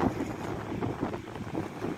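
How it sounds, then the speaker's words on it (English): Wind gusts down a seaside fishing pier, buffeting the microphone in a steady, loud rumble with slight surges, with no voices. "we've got the wind's coming down the pier this way"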